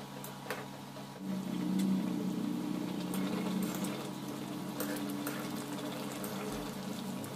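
Singi fish curry with new potatoes simmering after water is poured into the hot pan, a steady bubbling hiss swelling briefly and then settling into a quieter continuous boil, no voices.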